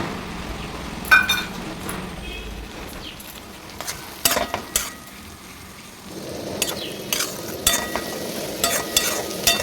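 A spatula scrapes and stirs spiced potato and pea curry in a wok over a steady sizzling hiss, with irregular clinks and scraping strokes, louder bursts near the start and a busier patch of stirring in the second half.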